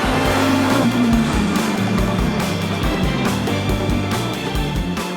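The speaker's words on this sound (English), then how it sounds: "With advanced aerodynamics, a powerful twin-turbocharged V8 engine, and an additional electric motor, the 963 was designed for one specific purpose" A Porsche 963 hybrid race car with a twin-turbo V8 and electric motor roars loudly, engine pitch rising and falling through gear changes amid dense track noise, close and unbroken.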